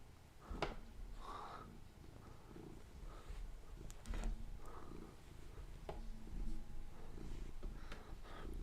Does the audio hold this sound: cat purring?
yes